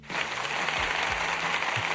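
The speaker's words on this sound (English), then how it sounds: "I gotta give Shotgun Scream his applause for the super chat." Short canned applause effect played on a live stream, a brief burst of steady clapping.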